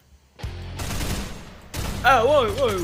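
Machine gun fire in the Worms video game: two sustained bursts of rapid cartoonish gunfire, loud and close, followed by a warbling synthetic game sound.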